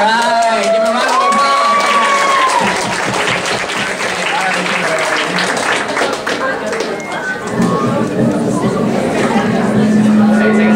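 Applause and cheering from a convention crowd at a costume contest, dense clapping throughout with scattered voices, an announcer talking over the top near the start and again at the end.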